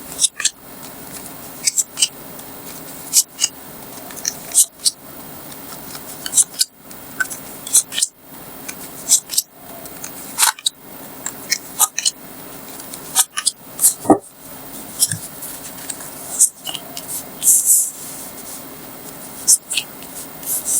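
Tarot cards are shuffled and drawn during a Thai reading, giving close, crisp snaps and papery slides in irregular bursts, with someone speaking softly over them.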